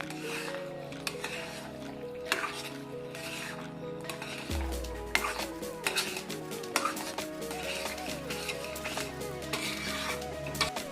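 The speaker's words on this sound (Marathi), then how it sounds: "सारखं हलवत राहायचं त्याला" Stirring Bombay Karachi halwa in a pan, a steady scraping and soft sticky squelching of the thick mixture against metal with occasional clinks of the spoon, close and continuous throughout.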